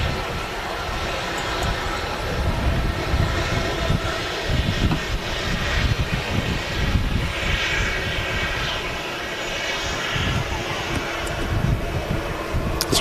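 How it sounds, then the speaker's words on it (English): A Ryanair jet airliner taxiing in at a windy Manchester Airport gives off a steady engine rumble and whine, moderately loud and sustained, with gusty broadband noise throughout and no voices. "There's a Ryanair just pulling in here"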